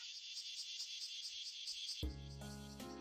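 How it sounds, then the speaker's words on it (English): Cicadas chirp in a steady pulsing high buzz for about two seconds before a sudden loud tonal sound cuts in over them. "The cicadas were chirping away"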